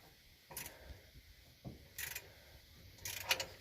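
Wrench ratcheting while undoing the fan and water pump pulley bolts on a small block Chevy engine: three short bursts of metallic clicking separated by pauses, fairly quiet and close.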